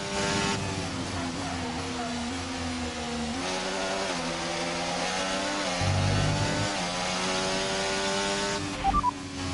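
Racing car engine in a video game, with wear on the internal combustion engine: a loud, continuous high-revving engine whine whose pitch climbs and drops with gear changes, running throughout without talk.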